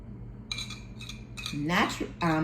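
A spoon clinks and scrapes against a glass or cup while a honey and lemon cold remedy is being mixed, with several short bursts of tapping and stirring close up and no talk.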